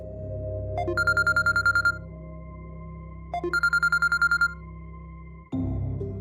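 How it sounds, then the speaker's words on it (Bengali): A phone rings late at night in two bursts of rapid trilling beeps, clear and moderately loud, then a short tone cuts in at the end. "আরে বাবা, এত রাতে কে ফোন করছে?"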